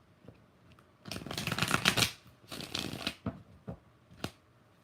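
Tarot cards are riffle-shuffled close by, two dense bursts of rapid flicking followed by a few quick single snaps, with faint background hiss and no talk.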